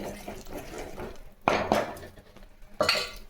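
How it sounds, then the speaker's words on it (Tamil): Lentils being stirred into sautéed tomato and onion in a pan, with clanking spoon-on-metal scrapes and knocks at intervals over a soft background, no talk. "இது போல் பருப்பு ஊற்றி நல்லா கலக்கி விட்டுருங்க"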